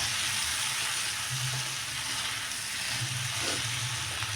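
Potatoes and eggplant frying in oil in a pan, a steady soft sizzle with faint occasional scrapes of stirring, quiet and close.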